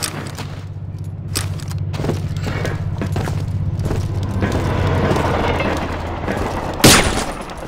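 Gunfire in a first-person shooter video game: a steady burst of rapid shots with a low mechanical hum underneath, ending in one loud sharp blast near the end.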